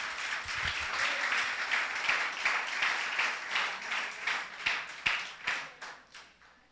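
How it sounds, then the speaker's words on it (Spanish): Congregation applause at a Christian church service, dense clapping for several seconds that thins out near the end into a few distinct, sharper claps before stopping. "Ríndale un fuerte aplauso."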